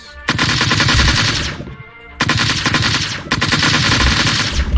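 Automatic gunfire in the video game Flight Force 4, sounding as three loud sustained bursts with short gaps between them.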